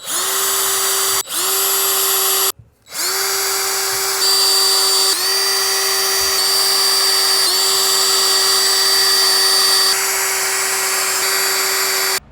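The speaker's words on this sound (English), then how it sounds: "let's pre-drill some holes" A power drill pre-drilling holes for a butcher block countertop whines steadily at high speed, stopping briefly twice and restarting, loud and close, with its pitch shifting slightly as it bores.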